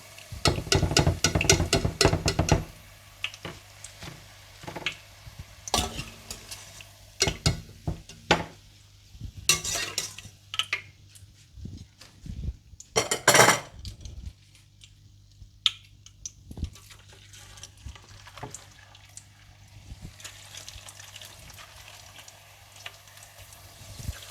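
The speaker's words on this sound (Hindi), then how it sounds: "इसी तरह से सारी भिंडियाँ आप फ्राई करके निकाल लीजिएगा" Okra (bhindi) frying in oil in a pan, with bursts of sizzling and crackling, scattered pan and utensil clinks, and quieter stretches of low steady frying in between.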